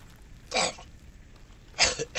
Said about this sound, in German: Na, seht ihr, muss ich selber tatsächlich husten.